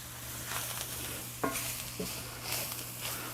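Flour and onions stirred in a frying pan, a soft continuous scraping and shuffling with a faint sizzle beneath and a couple of sharper utensil knocks against the pan, close and fairly quiet.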